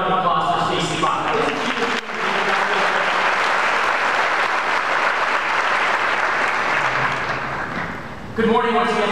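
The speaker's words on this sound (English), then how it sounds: "How about another round of applause for Stacey Bach?" A large audience in a hotel grand ballroom gives sustained applause at a business expo breakfast, a dense even roar of clapping lasting several seconds, with talking heard briefly at the start and again at the end.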